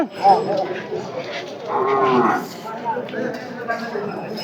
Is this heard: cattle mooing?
yes